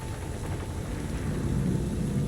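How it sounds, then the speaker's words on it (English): Acid rain in the video game Cyberpunk 2077, a continuous dense hiss of rainfall with low rumble, steady and fairly loud throughout. "I'm just gonna chill here for a second while our skin melts off from the acid rain."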